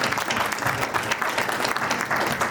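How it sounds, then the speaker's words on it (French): A crowd claps steadily, a dense wash of applause without a break for a few seconds. "Waouh, on applaudit."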